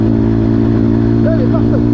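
A Zongshen 180 motorcycle engine runs close and loud with a steady, throbbing low hum. A voice speaks briefly over it near the end.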